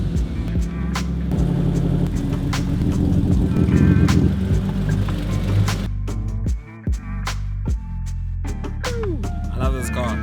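A car engine rumbles and revs loudly nearby, its pitch rising and falling in surges, with a voice speaking over it at times.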